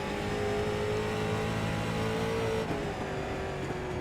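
A street stock race car engine in iRacing drones steadily at high revs on a circuit, a continuous close engine tone with a slight pitch dip as the car slows into a turn.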